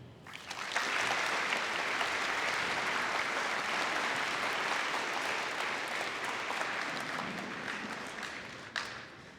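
A school assembly audience claps for veterans on Veterans Day, a dense, sustained round of applause rising quickly, holding steady for several seconds, then tapering slightly before one last louder burst near the end.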